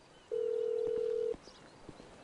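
In GTA 5, a phone gives a single steady electronic tone lasting about a second, followed by faint clicks and clip-clop-like taps.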